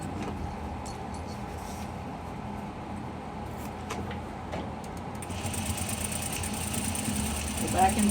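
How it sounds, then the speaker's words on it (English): A sewing machine stitches cat collars with a steady mechanical whir and rhythmic motor hum, growing busier toward the end, while a person talks over it. "I go to the machine and I'm gonna do the sewing"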